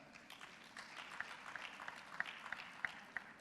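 Scattered applause from an audience at a media welcome breakfast during a bank president's remarks, light and uneven, rising in a few sharper bursts of clapping, somewhat distant in a large room.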